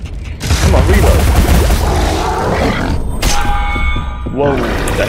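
Pepper Grinder gun in Alice: Madness Returns firing in a sustained, rapid stream of shots over dense game effects and grunts, with a player talking excitedly over the top.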